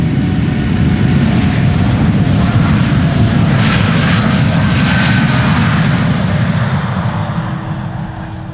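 A KLM Boeing 787-9 Dreamliner departs Amsterdam Schiphol for Portland, Oregon, its jet engines roaring loud and close in a powerful sustained blast that swells and then begins to fade toward the end.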